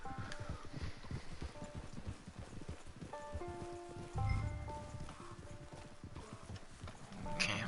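Horse hooves clip-clop in a steady, brisk rhythm in the video game Red Dead Redemption Online, with faint tonal game music and a short whinny-like burst near the end.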